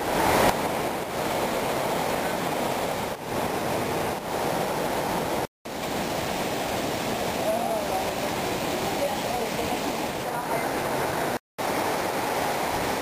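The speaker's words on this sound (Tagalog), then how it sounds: "Nandito na ako sa Daranac Falls." Daranak Falls roars as a continuous broad rush of falling water, loud and unbroken apart from two very brief dropouts, with wind buffeting the microphone.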